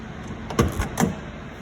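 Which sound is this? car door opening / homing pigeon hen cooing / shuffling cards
car door opening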